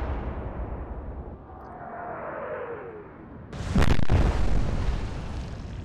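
Battleship gunfire in the Atlantic Fleet naval game: a whistling shell descends through a low rumbling sea ambience, then a loud, close broadside boom with a second blast right after and a rolling tail.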